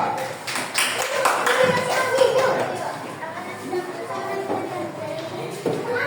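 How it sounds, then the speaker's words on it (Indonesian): A classroom of students claps for group 2 with scattered, uneven clapping mixed with children's chatter and a teacher's voice speaking over it. "Yuk, tepuk tangannya buat kelompok 2."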